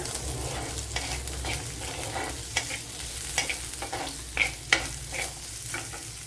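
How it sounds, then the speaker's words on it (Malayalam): Chopped onion goes into a hot frying pan for a green mango curd curry, sizzling steadily while a utensil scrapes and stirs in repeated sharp strokes. "ചെറിയൊരു സവാള ഇതുപോലെ കട്ട് ചെയ്തെടുത്തിട്ടുണ്ട് അത് ഇട്ട് കൊടുക്കുക"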